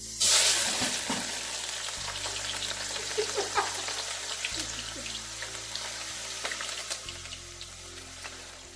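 Red onions hit hot, smoking oil and sizzle loudly at first, settling into a steady close frying hiss with faint scraping and clinks throughout.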